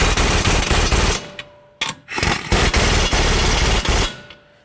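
Pneumatic impact gun tightening the two 19 mm lower strut bolts on a 2012 Subaru Forester during front strut replacement, loud close bursts of rapid hammering: one long run, a short pause, then a second sustained burst that cuts off abruptly.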